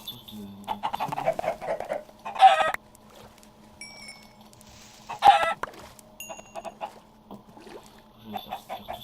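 Chickens in Minecraft clucking and squawking in short bursts, with a few sharp louder calls standing out among quieter game sounds and sparse ticks, close by and intermittent.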